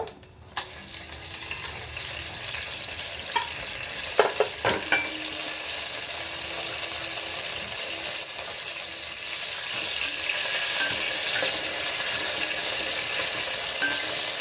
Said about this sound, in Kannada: ಚಕ್ಕೆ ಲವಂಗ ಬಿರಿಯಾನಿ ಸೊ ಎಲೆ ಸ್ಟಾರ್ ಹೂವು ಎಲ್ಲನೂ ಎಣ್ಣೆಗೆ ಹಾಕ್ಕೊಳ್ಳೋಣ